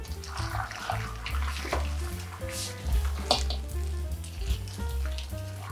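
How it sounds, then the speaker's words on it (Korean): Boiling salted water, about two litres, is poured from the pot over fresh cucumbers, giving a continuous splashing, hissing gush with faint clinks and a low background hum, no voices. "이 끓는 물을 그대로 오이에 부어줍니다."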